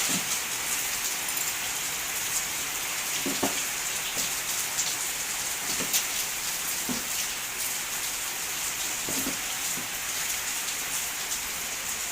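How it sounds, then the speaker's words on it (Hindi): Steady rain falls and patters on surfaces, a continuous hiss with a few scattered drips standing out. "खाना ही खा रहे थे एकदम से बारिश आ गई।"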